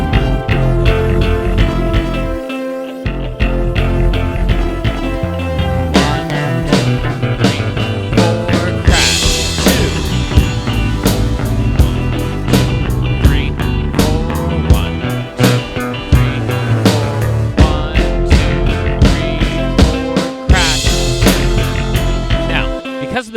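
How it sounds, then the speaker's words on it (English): Drum kit beat with a kick and crash cymbal landing on beat one, a fill, and snare returning on two, played steadily and loudly over a full backing track for about twenty seconds. "on beat one, we were hitting a crash, usually with a kick, and then going right back into our beat"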